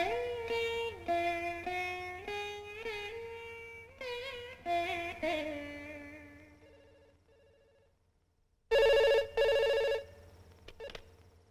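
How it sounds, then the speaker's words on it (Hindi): Telephone ringing in a quiet room, a run of melodic ringtone notes that fade out, then a louder, harsher burst of rings near the end. "फोन श्री हरि का ही था, और नहीं तो क्या।"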